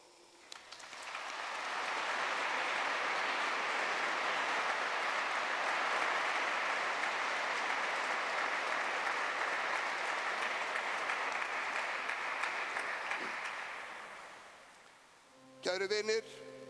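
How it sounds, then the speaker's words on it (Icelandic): Mourners at an Icelandic funeral applaud for the deceased in a sustained, dense round that swells quickly, holds steady for about twelve seconds, then fades, followed by a brief different sound at the end. "Við skulum klappa henni lof í lófa."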